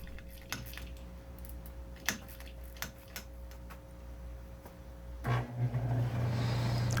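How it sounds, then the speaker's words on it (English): An old push screwdriver ratchets and clicks as it backs out small bumpers, giving several sharp, close clicks at irregular intervals, followed by a steady low mechanical hum near the end. "This old push screwdriver makes taking out these little bumpers a breeze."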